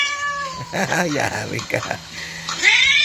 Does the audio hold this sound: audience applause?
no